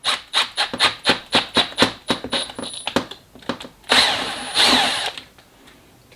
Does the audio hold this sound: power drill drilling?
yes